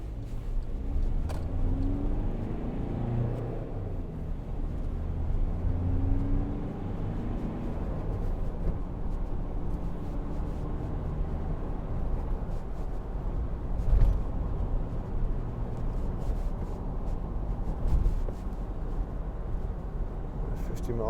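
A 2012 Volkswagen Amarok 2.0 BiTDI pickup driving along a bumpy road, with a steady low cabin rumble of engine and road noise and occasional thumps from rough surface, heard from inside.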